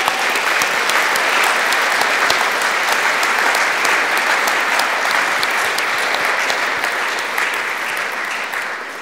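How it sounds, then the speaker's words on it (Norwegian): Sustained audience applause in a university hall at a commemorative event, dense even clapping from a large crowd that fades slightly toward the end. "men skal vi ikke gi en applaus?"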